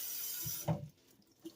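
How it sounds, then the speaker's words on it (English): Water rinsing canned sliced carrots, a brief close splash and gush that fades quickly, with a small drip or clink just after. "I'm going to rinse my veggies really, really good"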